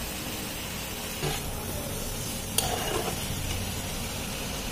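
Ground spice paste stirred in a pan for a thin Bengali singi fish curry with vegetables. Low, even sizzling and hiss fill the pan, with a couple of faint scrapes as the spoon moves, and no voices.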